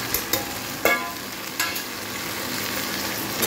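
Beans being added to vegetables frying in a pan with tomato, a steady oily sizzle broken by a few sharp clacks of a spoon stirring.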